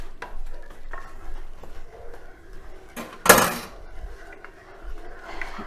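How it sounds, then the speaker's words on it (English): A spoon stirs inside a non-stick double boiler pan holding banana pudding ingredients such as sugar, flour and eggs, giving soft scraping and light clinks with one louder metallic knock midway, close up. "stir that a little better with a spoon"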